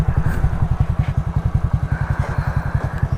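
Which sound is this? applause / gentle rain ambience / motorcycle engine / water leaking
motorcycle engine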